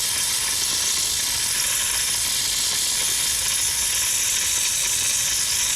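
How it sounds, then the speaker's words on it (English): A household steam cleaner jets a strong, steady hiss of steam, loud and unbroken at close range for several seconds, with no voices over it. "I'm going to let it get a real good steam going."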